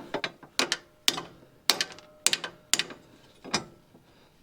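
A socket wrench ratchets a nut onto an under-body brace beneath a Toyota Altezza, giving several close, sharp bursts of rapid metallic clicks in an uneven rhythm with short pauses between strokes.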